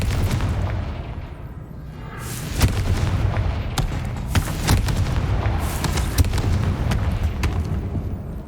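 Confringo spell blasts from the Hogwarts Legacy game go off repeatedly, a string of sharp explosive bangs at irregular intervals over a constant rumbling game background, fairly loud and close with no talking.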